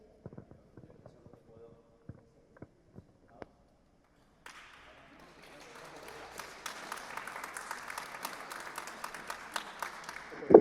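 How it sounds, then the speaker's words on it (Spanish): Audience applause at a literary café event with author Nando López, starting after scattered taps and building into steady clapping that grows louder toward the end. "el aplauso merecidísimo"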